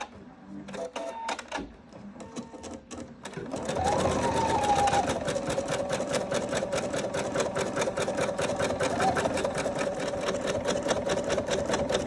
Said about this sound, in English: So it's currently stitching